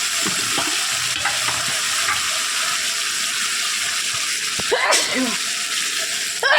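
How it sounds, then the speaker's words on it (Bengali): Spice paste with Kashmiri dried chili powder sautéing in a pan for a pointed gourd and prawn curry: a steady, dense sizzle throughout, with a few clinks of a spoon and a brief burst of stirring near the end. "তাহলে একটু সুন্দর করে কষিয়ে নিই"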